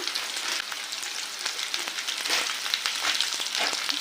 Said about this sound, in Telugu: ఈ ఉల్లిగడ్డలు బాగా వేగాలి. కొంచెం బ్రౌన్ కలర్ వచ్చేటట్టు వేయించుకున్నాము.